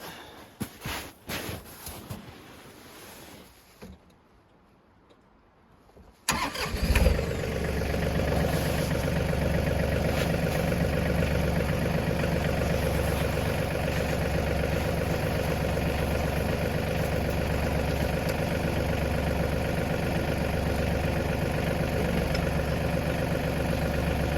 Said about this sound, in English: And I should have started the tractor.